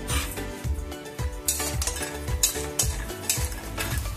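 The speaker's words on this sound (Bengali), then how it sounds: "এই তেলের মধ্যে বড়ি কটা ভেজে তুলে নেব।" Lentil bori frying in hot oil in a wok give a soft sizzle, with a metal spoon repeatedly stirring and clinking against the pan in a loose rhythm, close and moderately quiet.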